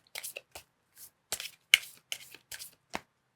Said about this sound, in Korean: 자, 마지막 오라클 카드도 뽑아보도록 하겠습니다